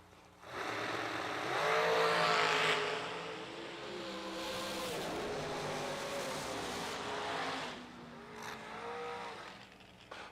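Drag race cars roar past together, a sustained loud engine howl that rises, holds with shifting pitch and fades slightly, then swells again briefly near the end.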